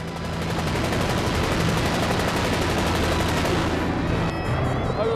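A Korean army Cobra attack helicopter fires on a target at a gunnery competition, a loud, dense, continuous burst of rapid gunfire lasting several seconds that ends abruptly near the close.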